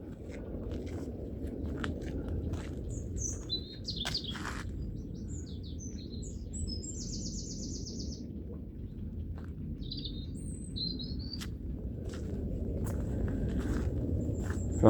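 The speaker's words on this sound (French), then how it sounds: "Et c'est les oiseaux sauvages qu'on entend là." Wild birds sing in short chirping bursts during a hike near Château de Kerzo in Port-Louis, Morbihan, high over a steady low rumble of wind or surf and footsteps.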